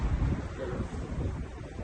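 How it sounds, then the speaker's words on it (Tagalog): Steady wind buffets the microphone with a low, rumbling roar, gusting unevenly throughout, in cold weather in Korea. "Nakita nyo guys, mahangin."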